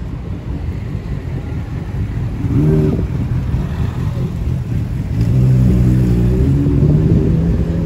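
On a London street, engine rumble and rising revs build as vehicles pass close by, with a louder pass near the end and steady wind noise on the microphone throughout.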